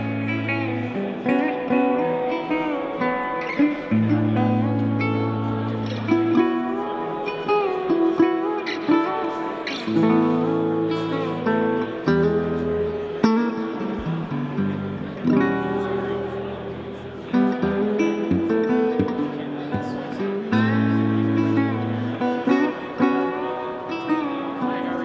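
A resophonic guitar played through a Henriksen solid state amplifier rings out in a steady melodic passage of picked notes and chords, heard alone at a guitar show in Colorado.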